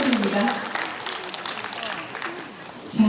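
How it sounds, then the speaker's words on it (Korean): Audience applause at a Korean charity award ceremony, as a Prime Minister's commendation is presented; a steady crowd clapping throughout, fairly close, swelling again at the end, with no talk over it. "박수로 축하해 주시기 바랍니다"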